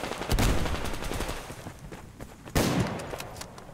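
Bursts of gunfire in the video game Survarium crackle in two clusters, a dense volley near the start and another sharp burst midway, with no talking.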